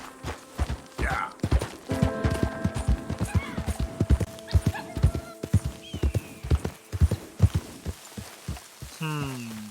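Horse hooves clip-clop in a steady, close rhythm through a Red Dead Redemption 2 game scene, with a brief whinny near the end and some quiet ambient sound and music beneath.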